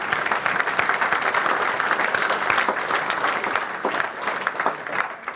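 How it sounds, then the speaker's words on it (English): Audience applause after a futurist keynote at a UK business event, a dense, sustained wash of many hands clapping that holds steady throughout, no speech over it. "So look, another round of applause for"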